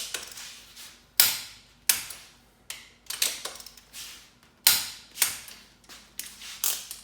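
Torque wrench working engine bolts on a disassembled engine, a series of sharp metallic clicks and ratcheting snaps in uneven bursts, close and fairly loud, with brief quiet gaps between pulls.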